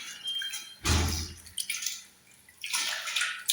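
Water drains from rice soaked overnight, splashing and trickling in bursts, a short heavy gush followed by lighter drips and pouring sounds, close by with no talking.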